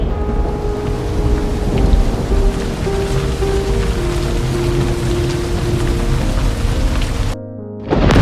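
Heavy, steady rain with rumbling thunder throughout, loud and continuous, dropping off briefly near the end before resuming.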